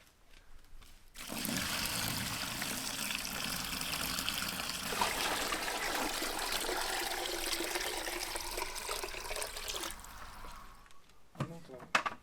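Water pours steadily for about nine seconds, a continuous close splashing rush that starts abruptly and tapers off, with a brief clatter at the end and people talking around it.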